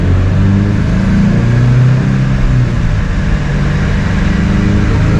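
Subaru BRZ second generation with FA24 engine, JDL headers and ECUtek tune pulling hard under acceleration, a loud continuous engine roar with rising and shifting tones, close and alone.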